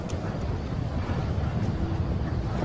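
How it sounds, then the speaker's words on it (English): Strong wind buffets the microphone at Heathrow Airport, a steady loud low rumble with gusty roar filling the whole stretch, no other clear sounds standing out. "Wind's too strong at the moment."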